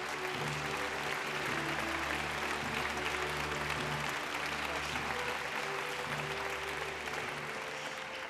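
A large audience applauds steadily, dense clapping sustained throughout with a low hum beneath and no voices.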